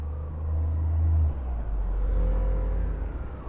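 A bus reverses nearby, a steady low engine rumble that swells and holds, loud and close, with no talk over it.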